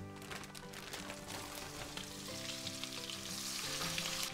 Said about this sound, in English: So these cook in the butter and oil for 10 minutes, and you have to keep turning them.